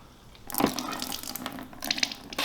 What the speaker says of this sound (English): We're filling this up with deionized water from our CS Spotless DIW 20.